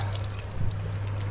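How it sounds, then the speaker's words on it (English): Water running from an outdoor seaside shower on a Crete family vacation, a steady splashing trickle over a low hum, continuous and fairly close. "outdoor shower with a view"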